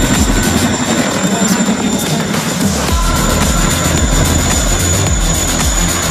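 A Chinook twin-rotor heavy-lift helicopter of the Indian Air Force flies at the Chandigarh air show, its loud, steady rotor thrum and engine roar filling the whole stretch.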